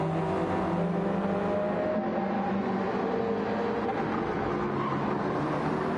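A BMW race car in a racing video game drives steadily with a continuous, loud engine drone and road rumble throughout, no clear passes or breaks, and no talk.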